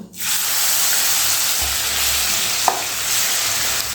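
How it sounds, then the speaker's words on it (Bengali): Prawns frying in very hot mustard oil in a wok, giving a loud, steady, dense sizzle close up with a faint clink partway through. "যখন দেখবেন তেলটা খুব ভালো করে গরম হয়ে গেছে তখন এর মধ্যে দিতে হবে সেই চিংড়ি মাছগুলো"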